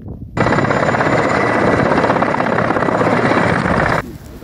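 A helicopter carrying explosives to break an ice jam during river flooding drones loudly and steadily, starting abruptly and cutting off near the end, its rotor and engine noise close and continuous.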